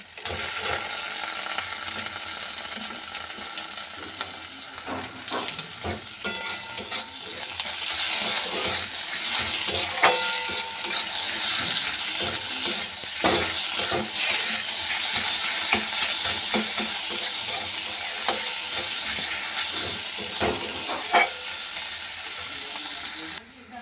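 Chopped tomatoes frying in egg in a home kitchen give a steady broadband sizzle, with scattered clinks and stirring taps throughout and faint voices in the background.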